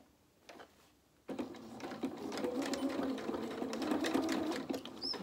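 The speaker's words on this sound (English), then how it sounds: "we're just going to sew across these two with our quarter of an inch seam allowance" A sewing machine stitches a short quarter-inch seam across two pieces of a doll's T-shirt dress, starting after a quiet second and then running in a steady, close, rapid mechanical whir with ticking stitches.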